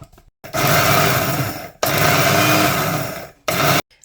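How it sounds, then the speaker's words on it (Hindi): An electric grinder coarsely grinds spices for chapli kabab in three loud, whirring bursts, each cut off sharply by a brief silence, the last burst shorter. "अब इसको पीस लेते हैं मोटा मोटा सा"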